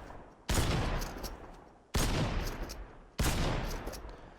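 Three loud, sharp bursts of assault rifle fire from a Fortnite match, each a sudden crack with a decaying tail, spaced about one and a half seconds apart, with no talk over them.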